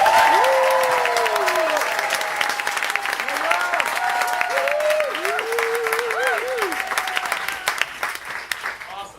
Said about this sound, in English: So can everyone applaud the rest of the world real quick?